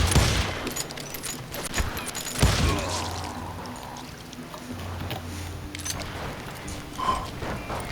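Gunfire in the Western shooter game Call of Juarez Gunslinger, several sharp shots scattered through a noisy game soundscape with rumbling and mechanical clatter, loud bursts near the start and middle.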